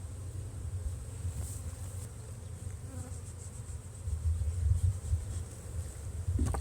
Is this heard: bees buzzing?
yes